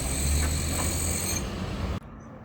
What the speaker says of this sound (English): Here comes a tram now